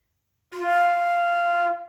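A single sustained high F flute note, steady and clear, held for over a second with a breathy onset, then fading out.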